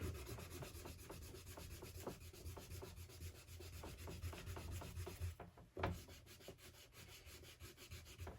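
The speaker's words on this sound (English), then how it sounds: "now I'm going to come in with my strong eraser and dig out." Strong eraser rubbing out charcoal on paper, heard as a steady, close scrubbing with repeated short strokes and one sharper scrape near the end, no talk.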